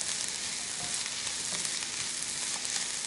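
Carrots and onions fry in a pan with a steady, close, crackling sizzle that holds evenly throughout, no voices over it.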